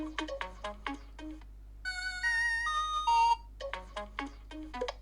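Nothing Phone 2a Glyph Composer ringtone, a bright synthetic tone pattern of sustained chiming notes that plays for about a second and a half, with a steady electronic hum and scattered clicks around it.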